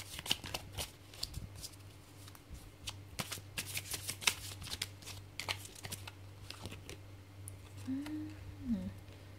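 Tarot cards being shuffled during a reading, a steady run of close, crisp riffling and flicking with soft slaps, continuing over a low constant hum, with a brief voice near the end.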